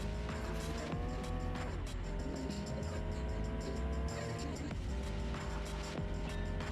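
Race cars overtake in the PS2 video game Pimp My Ride Street Racing, with loud constant engine roars that rise and then drop in pitch as the cars pass close by.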